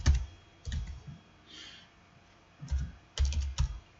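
Bursts of keystrokes on a computer keyboard as a spreadsheet sheet name is typed, several short clustered runs of clicks with pauses between, close and fairly clear with no talking.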